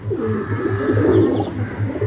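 Close pigeon cooing from Madrasi and Giribaz pigeons, a steady rhythmic low coo repeating about every quarter second, with softer bird calls layered above.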